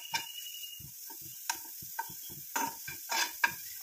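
Sliced carrot lightly frying in a pan. Soft, quiet scraping strokes of a spatula come in an irregular rhythm over a faint hiss of oil, with a few sharper clicks of metal on the pan.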